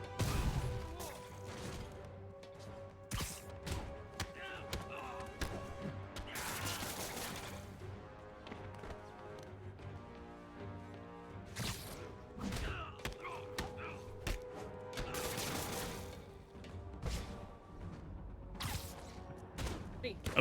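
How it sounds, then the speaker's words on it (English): Rocket launcher fire in a Spider-Man video game, several sharp blasts and crashing impacts scattered among mechanical clatter, fairly quiet overall. "that's a rocket launcher."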